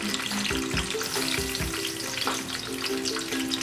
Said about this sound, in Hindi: अब मैं साथ में इसमें डाल दूंगी लहसुन अदरक